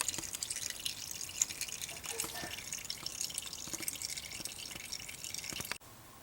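Automatic transmission fluid from a 2005 Town & Country drains in a steady dripping trickle from under the car as the pan comes off, continuous and fairly close, then cuts off abruptly near the end.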